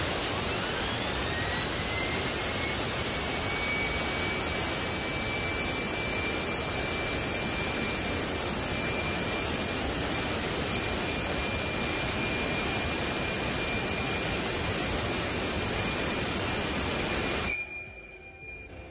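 A small gas turbine spins up to about 14,000 RPM, a loud steady jet-like roar with rising then constant high whining tones, running alone for most of the span before cutting off abruptly near the end.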